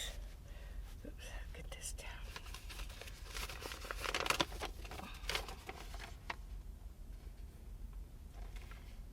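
Sheet of paper, a repair estimate for replacing minivan valve cover gaskets, handled and crinkled close by in a series of irregular rustling bursts, loudest midway, over a low steady background hum.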